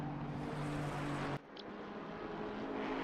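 Chevrolet Camaro racing in Assetto Corsa Competizione, its steady engine drone carrying a high supercharger whine that cuts off abruptly partway through and drops to a quieter hum.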